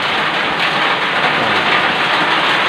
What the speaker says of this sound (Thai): วันนี้ก็ ฝนตกครับผม หัวเปียกหมดเลยครับ